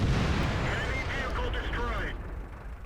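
Heavy tank cannon fire from World of Tanks, a loud booming blast with a long rumbling tail, played under a voice talking throughout.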